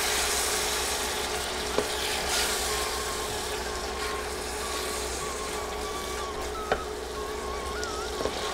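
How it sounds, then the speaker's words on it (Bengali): Soaked lentils and sliced potato stirred and sautéed in a pan, giving a steady, soft sizzle with a few faint scraping knocks from the spoon and no voices. "এবার ডাল ও আলু নেড়ে নেড়ে কিছুক্ষণ কষিয়ে নিব।"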